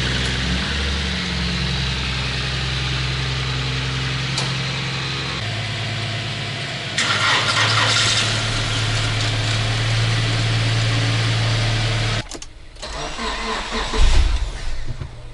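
A Subaru car engine cranks in the cold at about minus five degrees, a steady mechanical churning that lasts for seconds, pauses, then grinds again more loudly with a rougher burst near the end.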